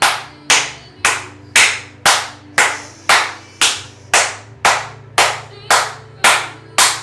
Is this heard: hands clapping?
yes